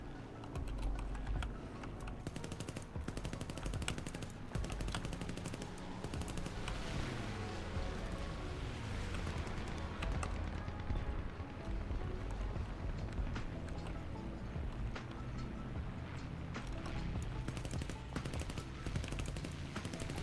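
Sustained aircraft machine-gun fire in War Thunder rattles on loudly and steadily for the whole stretch, dense rapid bursts layered over engine drone.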